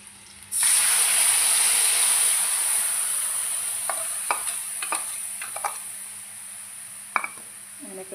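Onions and masala spices frying in hot oil with a loud, steady sizzle that kicks in suddenly and holds, broken by several sharp scrapes and clinks of stirring against the pan.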